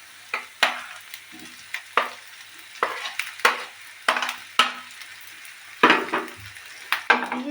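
Boiled potato and bitter gourd stirred into fried onions in a pan: a series of sharp, close scraping and clacking strokes about every half second, with a soft sizzle between them.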